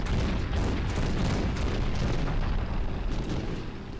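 Continuous loud explosions and booming blasts from a World War II shooter, Medal of Honor: Underground, rumbling densely together with no pauses and no speech.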